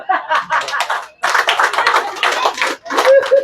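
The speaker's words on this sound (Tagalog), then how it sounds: "Palakpak." A church congregation claps in bursts, crisp hand claps in two long stretches broken by short pauses, close and fairly loud, with some laughter mixed in.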